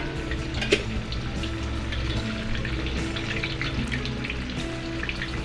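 Tofu frying in hot oil for a spicy chilli tofu dish, a steady, dense sizzle and crackle that holds evenly throughout at close range, with no talking.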